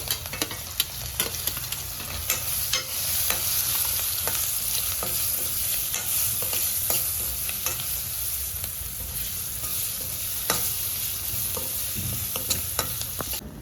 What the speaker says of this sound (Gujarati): અને લસણ અને આદુને છે એ આપણે એડ કરી દઈશું અને આ સ્ટેજે છે આપણે ડુંગળી પણ એડ કરી દઈશું.